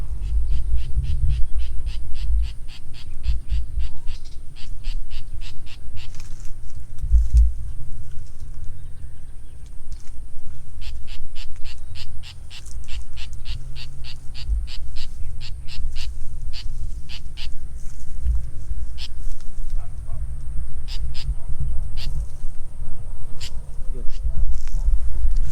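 A bird near a papaya tree gives rapid series of sharp repeated calls in bursts, fairly clear against steady low background rumble, with a person talking at times.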